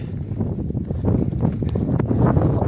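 Wind buffets the microphone in low, rumbling gusts that swell and rustle throughout, rough and close, on a cold, windy day along the Appalachian Trail in Maine.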